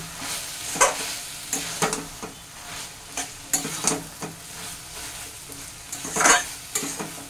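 Malabar spinach curry with mustard being stirred in a pan, a spatula scraping in irregular strokes with a few sharper clinks over a soft background sizzle.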